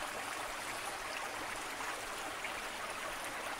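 Brook flowing through a winter forest, a steady, even rush of water without pause, moderately faint and continuous with no voices.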